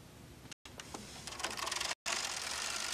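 A knitting machine carriage runs across a row of needles on a Bond Elite machine, a close, steady mechanical rattling whir that speeds into rhythmic clacking, broken by two short drops out.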